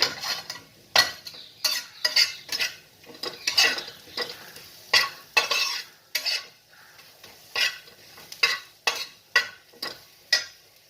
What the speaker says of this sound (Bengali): নাড়াচাড়া করছি